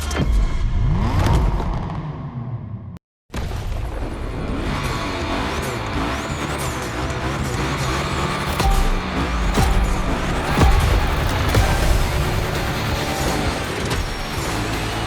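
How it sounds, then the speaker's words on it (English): Cars in The Crew Motorfest video game rev hard with a dense, continuous engine roar and tyre noise, broken only by a brief dropout near the start, then steady loud racing sound throughout. "Lots of drivers out to burn rubber."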